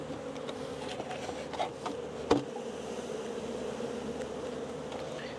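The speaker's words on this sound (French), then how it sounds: "Il y a beaucoup d'abeilles." A crowd of honeybees hums steadily around an opened hive being divided, with a few faint knocks and handling sounds over the constant buzzing.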